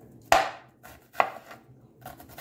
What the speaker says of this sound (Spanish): También picamos la cebolla y la cebolleta.